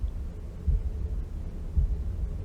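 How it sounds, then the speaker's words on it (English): A heartbeat sound from the puzzle game Room 1: soft, low, muffled thumps pulse slowly over a faint hum, with two clear beats about a second apart. "It's like hearing a heartbeat."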